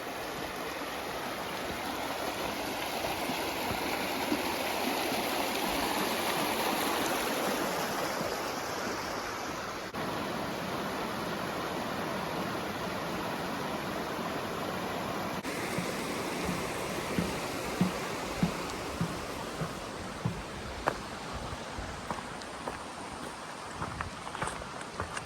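Loyalsock Creek rushes through a forested canyon, a steady broadband roar of flowing water heard while hiking, with sharp steps or crunches appearing toward the end.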